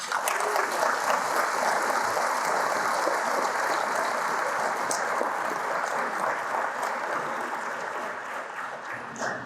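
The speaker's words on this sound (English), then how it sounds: "a big round of applause for all these things" A large audience at a city's State of the City event applauds with sustained, dense clapping that slowly tapers toward the end.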